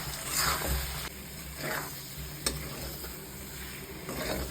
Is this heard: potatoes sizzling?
yes